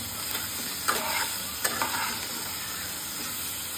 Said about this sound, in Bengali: লাল লাল করে ভেজে নেব আলু আর পটল।